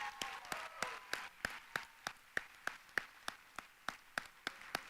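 Sparse, slow clapping from a small audience at a charity challenge finals event, honoring three project finalists; distinct individual claps fall in a steady rhythm, fairly quiet and without talk.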